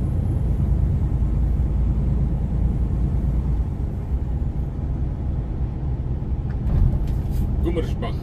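A truck rolls along a road, its cabin filled with a continuous low engine and tyre rumble at steady loudness, with a few brief higher clicks near the end and faint talk underneath.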